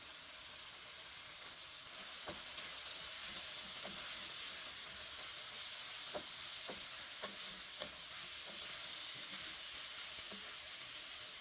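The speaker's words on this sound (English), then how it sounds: "Then I add the chopped seasoning. So I'm going to let that cook for about 3 minutes." Chopped seasoning cooks in a pan without oil for a Caribbean coconut dumpling and ackee meal, giving a faint, steady sizzle and hiss with a scattering of soft stirring clicks and scrapes.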